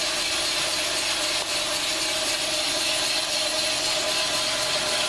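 A boring machine cuts the cylinder bore of an engine block with a steady, loud, grinding hiss that holds unbroken throughout, nearby and with no voices.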